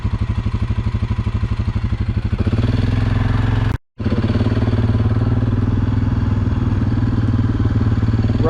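An ATV engine runs steadily while riding off-road at Saint Helen, Michigan, with a loud, close, throbbing pulse. The pitch rises a little partway through, there is a brief cutout, and then the running resumes, with no talk.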